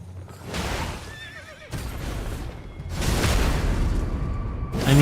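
A horse whinnies in the fantasy action game Elden Ring, a wavering neigh amid clip-clopping hooves and bursts of combat whooshes and thuds that grow louder toward the end.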